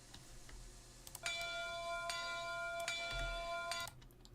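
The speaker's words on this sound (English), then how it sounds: "Ring your bell for the happiness." A steady bell rings with a bright, sustained tone for a few seconds, with a few sharp clicks around it over a quiet background.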